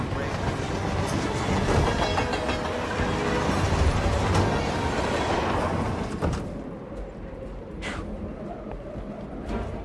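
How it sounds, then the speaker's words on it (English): A very long train rolls past in a snowy Romanian setting in Hitman 3, a loud continuous rumble with clickety-clack wheel rhythm that fades somewhat toward the end. "Train is insanely long."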